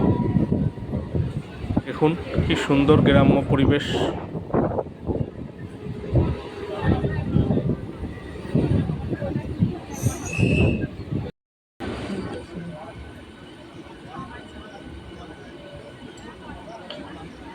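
A local train on the Bali to Bardhaman chord line pulls out of Belmuri station with a loud, continuous rumble and rattle of carriages, while someone talks over it, and the noise eases to a steadier hum later.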